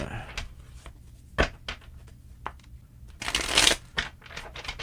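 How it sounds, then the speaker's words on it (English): Tarot cards shuffled by hand in a few brisk riffling bursts, with a longer dense flurry near the end, close and fairly quiet over low room tone. "3 shuffles and let's begin."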